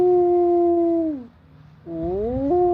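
A pet dog howls long and loud up close, one sustained wavering note, a short pause, then a second rising howl.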